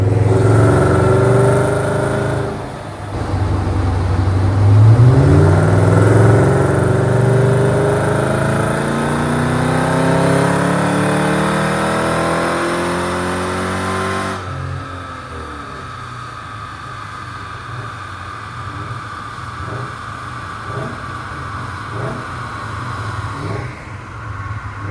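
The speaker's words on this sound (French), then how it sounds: "Voilà le tir au banc, donc le son est vraiment très sympa." A modified BMW 740iL V8 runs on a dyno, the engine climbing in a long, loud rising rev that holds high, then drops off sharply to a lower, rougher idle rumble.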